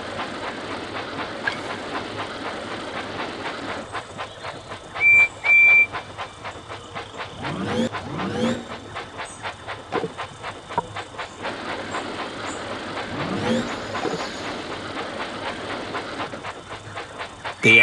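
Toy-style steam engine from Thomas & Friends running on tracks, with rhythmic clickety-clack and steady hiss, a brief whistle tone near the middle and end, continuous and fairly loud.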